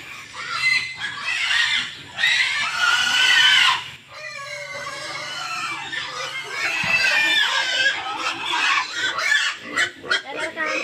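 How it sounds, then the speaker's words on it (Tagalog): A Duroc-cross sow with her piglets, sired by a pure Duroc boar, grunting and squealing repeatedly up close in a pen, with chickens clucking nearby and people talking over the noise. "ito po yung inahin mga boss pero yung ama po nito yung barako pure dorok po"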